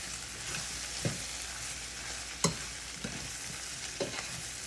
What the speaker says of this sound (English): Man, these onions are starting to caramelize on the bottom